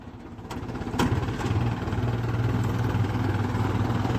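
A tractor engine idles with a steady, low, throbbing hum close by, growing slightly louder after the first second and running on evenly with no talk.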